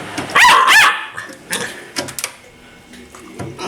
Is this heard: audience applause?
no